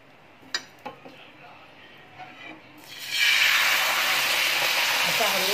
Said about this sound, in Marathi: आता बारीक करून आपण डोसा टाकणार आहोत